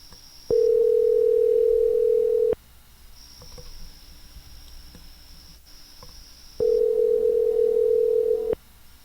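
Steady telephone dial tone while calling someone back, heard in two long unbroken stretches separated by a quieter gap of faint background clicks and room noise.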